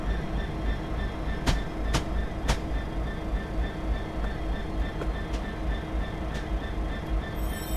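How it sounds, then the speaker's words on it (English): A Class 66 freight train in Train Simulator 2017 coming to a stop, with a steady low diesel rumble and rail noise, a few sharp clicks or wheel squeals, and no voices. "we are not a passenger train, we are just a freight train. Here we come nicely to a stop."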